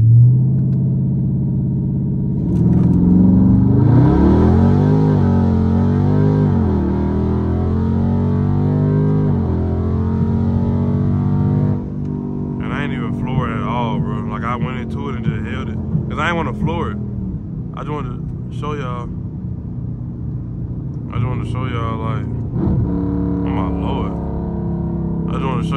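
A Dodge 392 V8 launching manually at full throttle, its deep engine roar rising and holding loud, then giving way to a lower rumble as a voice talks over it in short bursts.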